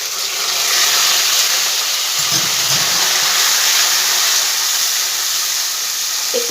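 Ginger-cumin paste with whole spices such as mace, cloves and black peppercorns fries in a pan, giving a loud, steady broadband sizzle that holds constant throughout without voices.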